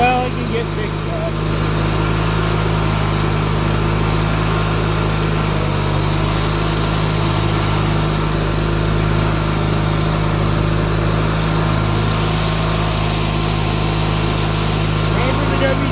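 An old tractor engine runs steadily throughout, a loud, continuous low rumble with strong harmonic hum, close by and unbroken.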